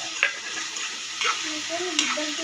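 Tomatoes fry in a pan with a steady sizzle while a spoon scrapes and stirs through them in three distinct strokes, close and clear.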